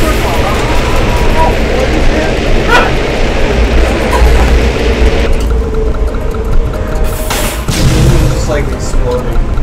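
A booming explosion in Goat Simulator, loud and low, set among chaotic game sounds while several players chatter and exclaim.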